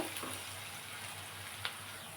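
Onions fry in oil in a pan for curry leaves rice, a soft steady sizzle with a faint low hum and a single brief clink partway through.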